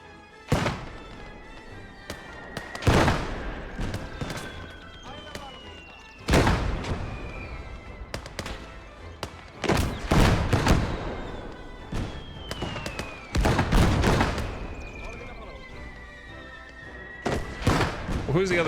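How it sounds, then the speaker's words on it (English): Heavy mortar fire in a World War-style online shooter booms repeatedly at irregular intervals, each blast loud and broadband with a rumbling tail, while a player talks over the barrage and whistling shells descend between impacts. "who's the other mortar shooting right now?"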